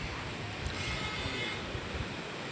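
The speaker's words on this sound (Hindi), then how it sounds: "पीछे समुद्र की लहरें उठ रही हैं" Sea waves breaking on the shore at Bandra, Mumbai, a steady broadband wash of surf mixed with wind rumble, continuous and moderately faint with no distinct voices.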